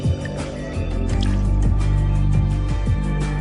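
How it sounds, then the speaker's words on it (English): Water is poured into a glass with a small hole drilled near the bottom, a steady filling trickle with faint drips, close and alone. "When the magician fills the glass with water, he must be careful to keep this hole covered."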